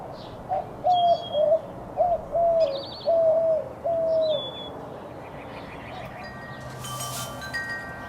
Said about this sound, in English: It's just the peace and quiet, listening to the birds.